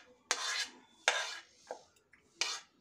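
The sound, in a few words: mixing soaked semolina batter with vegetables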